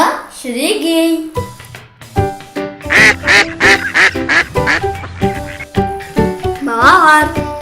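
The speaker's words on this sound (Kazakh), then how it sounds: "Үйрек балапаны шірегей." A duckling quacks over and over in quick, loud, close bursts, its calls bunched into rapid runs with brief pauses between.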